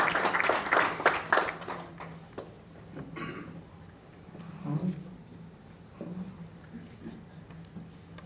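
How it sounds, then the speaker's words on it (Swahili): An audience applauds as people come forward at a ceremony marking the fight against human trafficking; a burst of clapping rises first, then thins into scattered claps and quieter room noise. "Tuwapigie makofi wakati wanasogea."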